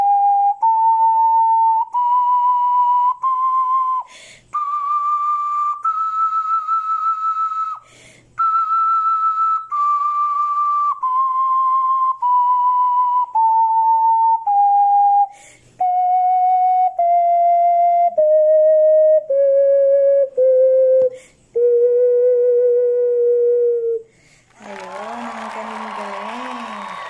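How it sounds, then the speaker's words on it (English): Ocarina, a vessel flute, plays a slow solo melody of sustained, clear notes that step gradually downward, with short breaks between phrases and a burst of noisy sound at the very end. "really want to hear the first music that I was able to play with this ocarina"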